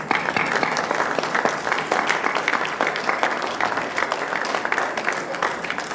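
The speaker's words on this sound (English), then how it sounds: "give a big round of applause to all the mothers" A church congregation at Sunday Mass applauds the mothers, a full, lively round of clapping from many people that stays strong and even throughout.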